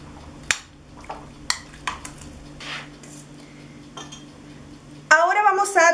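Turkey stuffing for a Christmas stuffed turkey is mixed with olive oil and salt in a bowl, giving several sharp utensil clinks and soft scraping close by. A voice comes in near the end.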